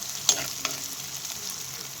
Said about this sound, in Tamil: கடுகு பொரிஞ்சதும் சீரகம் அடுத்து கருவேப்பிலை அடுத்து வெங்காயம் போட்டு நல்லா கொஞ்சம் வதக்கி விடணும்